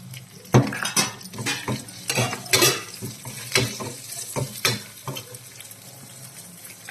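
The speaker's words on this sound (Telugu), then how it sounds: "గరిటెతో స్మాష్ చేసుకుందాం." Cooked moong dal is mashed with a ladle in a pot, producing a series of close, irregular knocks, scrapes and soft wet clatters against the metal, with no talk.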